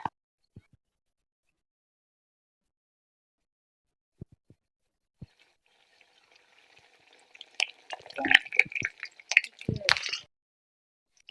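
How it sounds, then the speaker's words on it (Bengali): A paratha fries in hot oil in a kadai, the oil starting with a few isolated drips and pops, then breaking into a busy close sizzle and crackle over the last few seconds. "আমি এখন একটা ভেজে নেব, দেখবো তেলটা গরম হয়েছে কিনা"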